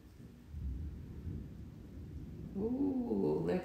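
Thunder during a storm rolls in as a low rumble that swells and stays sustained, with a separate higher tonal cry, like a cat, rising near the end over it.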